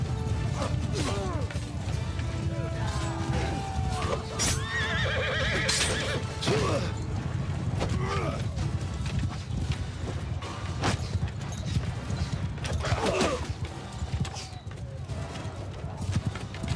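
A horse in a medieval Nord-setting video game neighs and whinnies several times over steady hoofbeats and battle clatter, loud and close, with a voice talking partway through.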